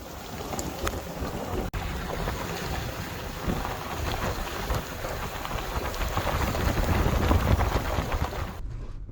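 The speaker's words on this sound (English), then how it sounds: "The rain and fog had gotten so thick at times, we turned on the rigid lights just so we could see over into the forest." Heavy rain falls in a New Hampshire forest as a dense, steady hiss that swells louder toward the end, with a low rumble beneath and no voices.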